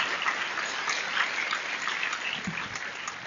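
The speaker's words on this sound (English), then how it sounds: "We're clapping here in the studio too." Clapping in a broadcast studio during a live kids' talk show, a steady dense patter of many hands, moderately loud and continuous with no talk over it.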